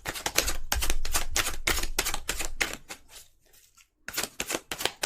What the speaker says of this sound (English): If you do not like to watch the shuffling